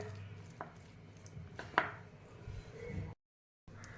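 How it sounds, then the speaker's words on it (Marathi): Knife chopping fresh coriander leaves on a board in a home kitchen, a few sharp taps standing out over steady background noise, then a brief silence before quiet sound resumes. "इथे मी थोडी कोथिंबीर घेतली आहे, ती सुद्धा कट करून यामध्ये मी टाकत आहे"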